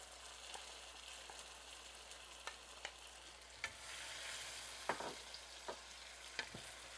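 Saltfish frying in a pan for ackee and saltfish, a faint steady sizzle broken by occasional scraping clinks as it is stirred, with no talking.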